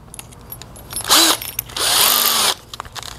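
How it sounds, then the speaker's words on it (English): A power drill with a small bit bores holes into a plastic container, heard as two short, loud whining bursts with a sweeping pitch and quieter clicks and handling noises between them. "we're gonna start drilling holes all the way around this thing"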